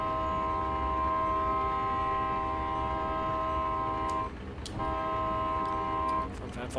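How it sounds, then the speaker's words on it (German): Train rolling along in the Train Sim World 2020 video game, a steady loud engine drone with sustained tonal hum that dips briefly, with faint high clicks and no voices. "Können wir den Zug einfach mal rollen lassen."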